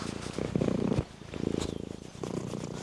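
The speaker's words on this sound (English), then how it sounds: "He's purring away." A cat purring close up, steady rhythmic rumbling pulses that swell and fade in waves over about three seconds, with no talking.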